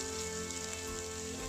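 Steady, dense sizzling of potato strings and hot pepper dropped into about two tablespoons of very hot oil in a pan for stir frying, loud and continuous with no talk.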